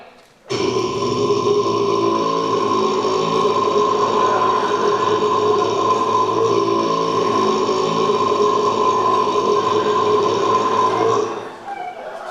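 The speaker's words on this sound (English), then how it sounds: "It was the biggest burp I'd ever heard." One enormous, long rumbling belch rolls on for about eleven seconds, loud and close, with a gurgling, grinding texture that fades at the end.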